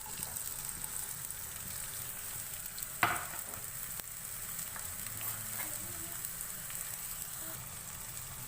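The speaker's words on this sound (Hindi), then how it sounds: "ऑयल गर्म हो गया है, अब हम इसके अंदर प्याज ऐड करेंगे।" Finely chopped onion frying in hot oil in a kadai gives a constant, even sizzle, close and steady, with one sharp clatter about midway and no voices.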